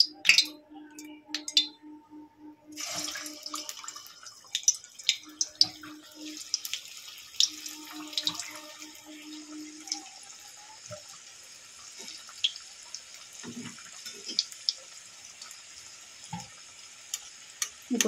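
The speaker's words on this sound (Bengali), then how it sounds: "তেল গরম হয়ে গেছে। এবারে ভেজে নেব।" Egg and onion chops drop into hot oil to deep-fry, starting with sputtering splashes and then settling into a faint scattered crackle broken by occasional small pops.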